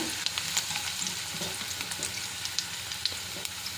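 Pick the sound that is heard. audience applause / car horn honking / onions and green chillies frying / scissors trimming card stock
onions and green chillies frying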